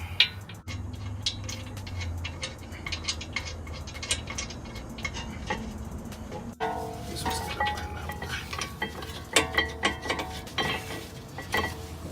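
A ratchet tightening bolts on the front brake assembly of a 2007-2013 Acura MDX SH-AWD, rapid clicking pawl runs close by, quieter at first and then louder and more clipped after a brief pause.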